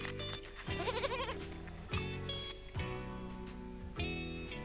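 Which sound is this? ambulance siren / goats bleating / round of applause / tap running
goats bleating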